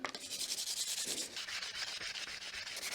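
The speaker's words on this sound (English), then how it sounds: "first we're going to remove the wiper blade, and then we're going to give it a quick sand" Sandpaper at 80 grit rubs rust off the wiper arm of a MINI Cooper in quick, rhythmic back-and-forth strokes, close by and fairly soft, with no talking.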